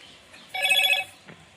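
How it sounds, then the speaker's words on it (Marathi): A phone rings once with an incoming call, a short bright electronic ringtone burst in a quiet room, followed by a faint click. "वाजला होता कॉल,"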